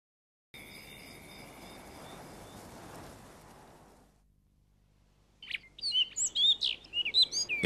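Rock thrush singing on a mountainside in late August, a quick series of bright chirping phrases arriving near and clear after a stretch of faint insect-like hiss and near silence.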